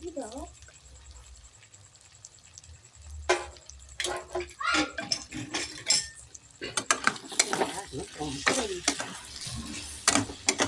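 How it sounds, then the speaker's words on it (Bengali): Spices for ghugni, red chilli, turmeric, coriander and cumin powders, stirred and frying in a pan: scraping, clattering stirs in irregular bursts over a low sizzle, louder and busier in the second half. "সব উপকরণ ভালো করে মিশিয়ে নিয়ে 2 মিনিট ধরে কষিয়ে"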